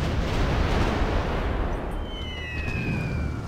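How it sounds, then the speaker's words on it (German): A bomb strikes a ship in Civilization V, bursting as a loud, broad explosive roar that slowly rumbles away, with faint whistling tones trailing near the end. "Bombe auf das Schiff"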